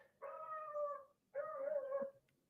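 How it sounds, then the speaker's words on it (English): A neighbor's dog outside gives two long, howling barks with a wavering, drawn-out tone, separated by a short pause. Each is clear but moderately faint, and no one talks over them. "I know y'all probably hear that. That's a dog outside."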